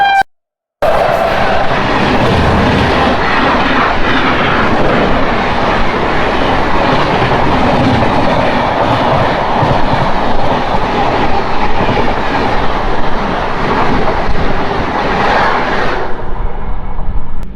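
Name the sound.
Howrah Mail express train passing by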